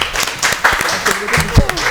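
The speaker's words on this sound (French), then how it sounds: "On applaudit coach, s'il vous plaît" An audience at a holiday games event between ISTC and Université FHB applauds their coach, a brief scatter of claps heard under a loud nearby voice talking.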